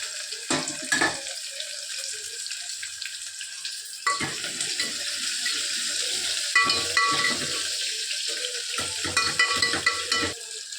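Brinjal and green chillies frying in a pan, an even sizzle with bursts of scraping stirs and clattering utensil strokes, close and clear.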